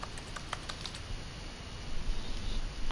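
Rapid computer keyboard typing in The Stanley Parable, a quick run of crisp key clicks over the first second, then fading into a low hum with a slight swell near the end.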